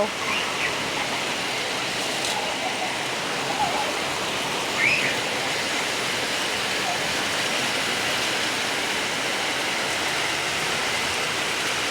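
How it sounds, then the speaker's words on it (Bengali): Heavy rain falls continuously, a dense even roar of drops close by with little variation, and a few faint bird chirps poke through briefly. "দেখেন অনেক বৃষ্টি হইতেছে বৃষ্টির শব্দটা ঝন ঝন ঝন"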